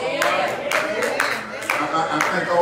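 A single person claps in an indoor gathering, the sharp hand claps landing irregularly about every half second amid a steady murmur of room noise and voices.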